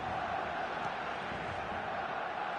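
Steady roar of a football stadium crowd during a match approaching half-time, a broad continuous hum of massed voices without distinct peaks, heard under the broadcast.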